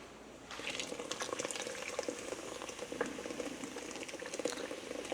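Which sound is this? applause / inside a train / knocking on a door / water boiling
water boiling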